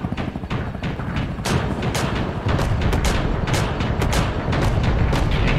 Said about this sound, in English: There's that 40mm, and you can tell the difference because of how fast it's firing